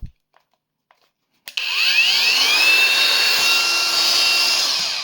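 A Grasser GAG 125 cordless brushless angle grinder spins up after a moment of near silence, then runs at a steady, loud, high-pitched whine with faint sweeping tones, close by and alone.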